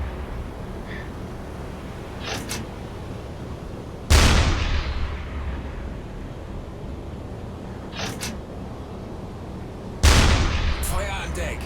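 A deck gun fires in a U-Boat submarine game. Two loud, booming shots ring out several seconds apart over a constant rumbling background, with fainter sharp clicks in between.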